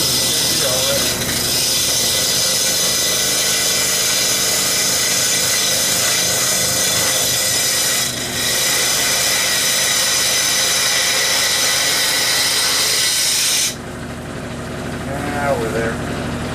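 Wood lathe spinning figured maple while an Easy Wood Tools rougher cuts, a steady loud whirring hiss for about 14 seconds that then drops to a quieter motor hum.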